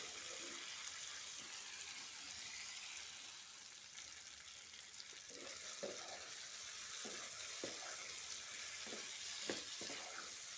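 Raw jackfruit and chana dal stirred in a pan, a soft constant sizzle with intermittent scraping strokes of the spoon against the pan.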